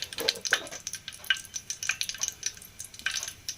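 Mustard seeds and cumin crackle and pop in hot oil in a home kitchen pan, a run of sharp scattered spits and ticks spread across the moment, fairly close and moderately loud with no talking.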